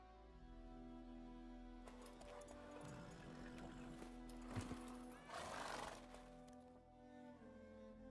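A horse in the video game Witcher 3 neighs and whinnies with clip-clopping hooves, a mid-level whinny rising in the middle over a steady low background hum and tonal game music.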